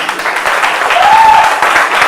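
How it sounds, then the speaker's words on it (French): A crowd applauding, a dense steady wash of clapping that holds at full volume throughout. "Applaudissez très fort pour votre chaîne, je vous en prie"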